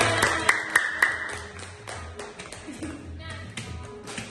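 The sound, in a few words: children clapping hands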